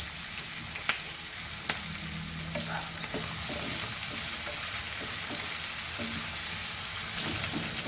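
Tomatoes sauté in a hot pan for a mutton trotters curry, a continuous bright sizzle with occasional clinks and scrapes of a spoon stirring, close and steady with no talking.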